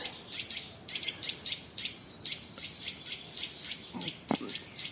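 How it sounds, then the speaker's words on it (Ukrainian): Several birds chirp and sing in quick repeated bursts from different directions, fairly close, over a soft outdoor background hiss. "один птах з цієї сторони, а другий з іншої"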